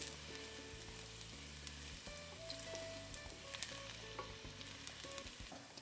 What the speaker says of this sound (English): And then we're going to add our sliced garlic to the olive oil.